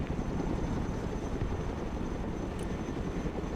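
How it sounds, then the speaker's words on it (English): A steady, loud rotor and engine drone of a Chinook cargo helicopter in the game Broken Arrow, constant and unbroken throughout, with no voices. "Cargo helicopter approaching the DZ."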